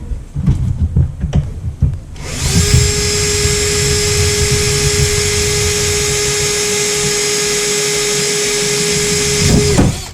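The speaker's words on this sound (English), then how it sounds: "Right, let's drill those" Close, loud power drill drilling a hole on a track bike build, running continuously in one long steady whine after a few knocks and shuffles, then cutting off near the end.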